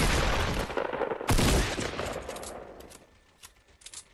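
Rapid SMG gunfire in Fortnite, a loud dense burst of shots close up with a heavy blast partway through, then thinning to scattered distant pops and game effects; no voices.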